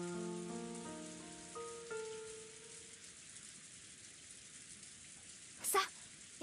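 Rain falls steadily as a soft, continuous hiss within the Umineko When They Cry visual novel, with gentle tonal music fading out early and a brief sharp sound near the end.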